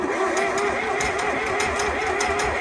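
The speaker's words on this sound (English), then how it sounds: "Got throttle wide open. See what it does." A tractor engine with a major fault held at wide open throttle, a loud, continuous, rough mechanical roar up close with no talk over it.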